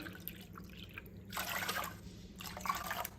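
Water for boiling sabudana is poured into a cooking pot, trickling and splashing in two short bursts with quiet drips between, close and fairly soft.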